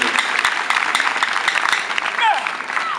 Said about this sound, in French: applaudissez encore très fort